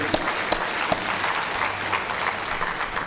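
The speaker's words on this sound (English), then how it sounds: "Ladies and gentlemen, a round of applause." Audience applause at a Uganda-China economic investment and trade forum as panelists leave the podium: steady, dense clapping from a sizable crowd throughout, with a few sharp, close claps standing out near the start.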